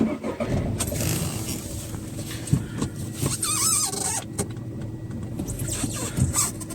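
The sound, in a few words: used car engine running during test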